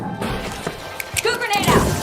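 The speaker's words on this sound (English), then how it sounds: "Goo grenade set!" A goo grenade is deployed in the shooter game The Finals: sharp smashing and thwacking impacts mixed with mechanical clatter, close and fairly loud. Voices talk over it.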